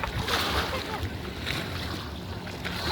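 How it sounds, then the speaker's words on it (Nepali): Floodwater churned by vehicles driving through it, with rushing, splashing waves and gusts of wind noise rising and falling at close range, and faint voices in the background. "यहाँनिर पुरा पानीको छाल"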